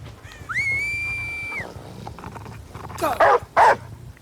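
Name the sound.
Houndmaster's dog barking in the video game Dead by Daylight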